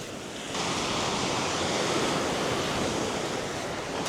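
Sea waves wash onto the shore below the cliffs at Shanklin on the Isle of Wight, a loud continuous roar of surf with wind buffeting the microphone.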